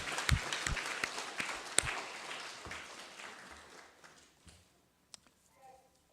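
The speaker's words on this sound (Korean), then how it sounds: "우리 축하의 박수를 한번 더 드리겠습니다." A church congregation at a Christmas celebration service in Gyeongju applauds, starting with a burst of clapping that thins and fades over several seconds until only a few scattered claps remain.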